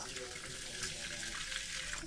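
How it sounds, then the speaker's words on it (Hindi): Water pours steadily from a tap or jug onto rice set out for soaking, a continuous close splashing stream with no pauses, filling a pot for a chhole and rice meal. "तो सबसे पहले मैं पानी डाल देती हूँ।"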